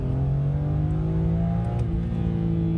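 A BMW M3 engine pulls hard under acceleration, its tone climbing steadily, then dipping briefly at a gear change before rising again, loud and close from inside the car with no talk.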